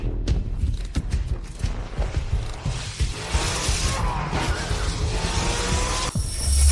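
A car in sport mode accelerating hard, with a loud, sustained engine and road roar, mechanical whine and possible tire squeal building over several seconds, with no talk.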